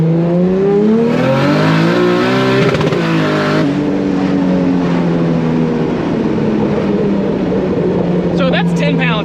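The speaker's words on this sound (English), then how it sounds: "Back in 2nd, do another 2nd gear rip." A 2JZ-powered BMW E30 with a DCT gearbox pulls hard in second gear, its engine note loud and continuous as pitch climbs and shifts, heard from inside the car with a voice talking over it.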